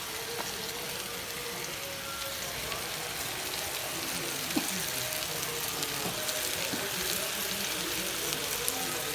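Garlic and shallots fry in a pan for white spaghetti, a steady dense sizzle holding at even loudness throughout with faint clicks of utensils.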